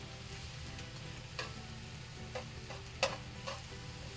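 Vegetables for beef lo mein frying over high heat, a low steady sizzle broken by a few sharp stirring clicks and scrapes, close but quiet, no speech.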